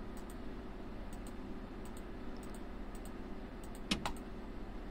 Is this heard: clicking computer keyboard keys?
yes